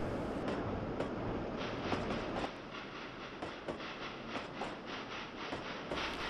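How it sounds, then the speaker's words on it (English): A narrow gauge freight train rolls past in the Trainz 2009 simulation, a steady rumble with regular clickety-clack wheel beats and hiss, heard alone at moderate distance. "The eastbound freight has passed Whiplash Curve and is now passing Lava Tank"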